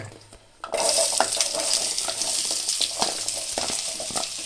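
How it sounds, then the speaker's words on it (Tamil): Onion dropped into hot oil for a channa masala gravy, bursting into a loud sizzle after a quiet start, then crackling steadily with occasional stirring scrapes. "இப்போ வெங்காயத்தை ஆட் பண்ணிங்க"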